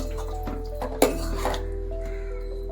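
Salt being stirred into onion paste in a metal cooking pan for a country chicken curry, with a spoon scraping and clinking against the pan, one sharper knock near the middle, over a steady stove hum.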